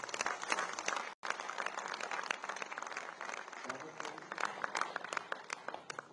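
An audience at a public gathering in Haridwar breaks into applause, a dense, continuous patter of many hands clapping that is faint and distant, with a brief dropout near the start.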